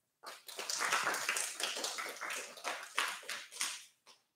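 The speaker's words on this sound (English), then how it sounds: "So also, applause to her." Small audience at a science event clapping in quick, uneven bursts that swell, then thin out and trail off into a few last claps, close and fairly clear.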